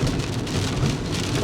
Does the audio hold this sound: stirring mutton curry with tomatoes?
no